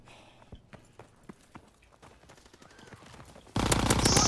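Rapid gunshots crack out in Call of Duty, a string of sharp distinct reports at an uneven pace, then a sudden loud burst of sustained noise at the end.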